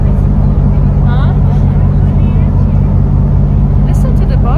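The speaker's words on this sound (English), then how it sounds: "Listen to the boat. It's the engine." A boat engine runs steadily and loudly throughout, a constant low drone with faint wind and water, recorded aboard during a sunset ride in the waves off Bonifacio.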